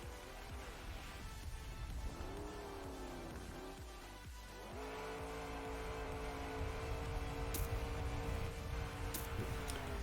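Engine of the desert car in a racing video game, a steady droning tone that shifts pitch as it revs up and changes gear, fairly quiet and continuous.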